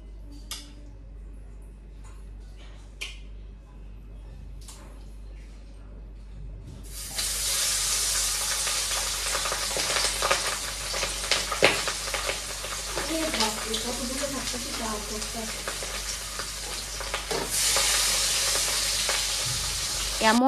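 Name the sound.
fish frying in oil, spattering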